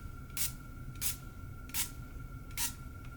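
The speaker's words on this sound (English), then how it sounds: "Make sure you're moving while you're spraying to try to get an even mist." Four short hissing bursts from a spray bottle misting a screen protector, evenly spaced about half a second apart, close and fairly quiet over faint background hum.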